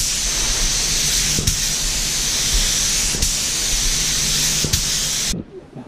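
A spray gun lays a coat of House of Kolor paint on a 1964 Impala SS, giving a steady, close hiss with a few brief clicks before stopping abruptly near the end.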